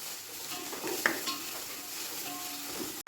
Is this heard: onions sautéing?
yes